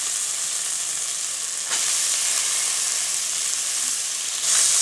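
Peas dropped into sizzling ginger-garlic paste in a pan, a constant bright frying hiss that swells sharply twice as the peas go in.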